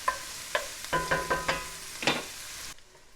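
Bacon and onions fry in a pan, with sharp clicking stir strokes and pops recurring over a soft continuous sizzle, close and fairly loud, before a brief quiet tail.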